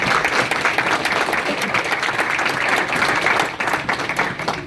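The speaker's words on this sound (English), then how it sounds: "could I ask all of you to just give a big round of applause to everyone here in Middlesex County?" An audience gives a round of applause at a National Adoption Day event in Middlesex County, New Jersey. It is dense, continuous clapping from a large crowd, loud and even from start to finish.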